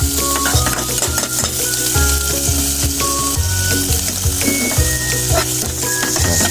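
Tomato and egg fry for an omelette, a loud continuous sizzle close by with repeated stirring scrapes and light pan clinks throughout.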